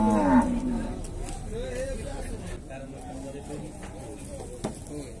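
Cattle mooing amid a noisy livestock market in Dois Riachos, Alagoas, Brazil, with people talking nearby and a low moo standing out at the start.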